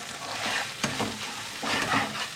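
Spices sautéing in a pan with salt, a bright close sizzle broken by a few quick stirring scrapes of a spoon, no voices.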